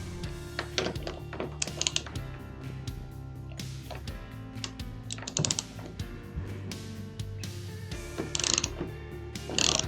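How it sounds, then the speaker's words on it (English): A wrench works loose a bolt on a Yamaha Tenere 700 motorcycle while a centre stand is fitted. Close, quiet ratcheting clicks and metallic clinks come in irregular bursts with short pauses between them. "the next is to remove this bolt over here"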